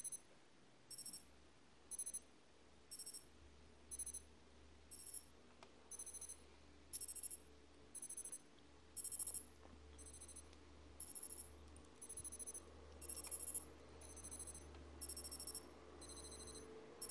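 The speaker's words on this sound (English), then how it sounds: "This alarm is not sufficient to wake you up, but it's got a nice little ring to it." A Citizen AV0031 wristwatch alarm rings in short, faint, high-pitched bursts repeating roughly once a second, small and tinny, with a low hum underneath and no talk.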